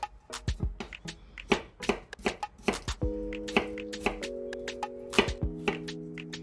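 A knife slicing vegetables thinly on a cutting board for seafood chowder, a quick run of sharp, close chopping taps with a faint tonal hum behind them and no talking.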